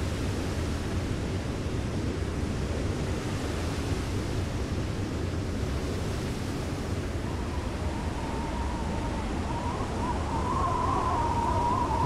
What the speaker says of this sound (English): hear that wind. The seas are so choppy